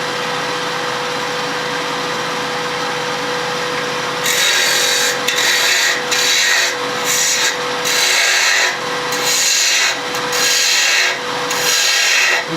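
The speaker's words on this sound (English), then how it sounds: "the rest of this I'm going to take away with the bowl gouge." Bowl gouge push-cutting the interior of a wooden spinning top on a lathe, a steady broadband shaving rasp that starts after a quiet motor hum and pulses in repeated strokes, close and loud.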